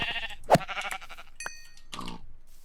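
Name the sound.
sheep bleating in Minecraft video game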